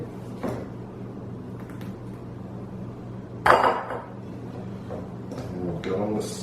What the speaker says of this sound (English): Now, with the last, the ravioli,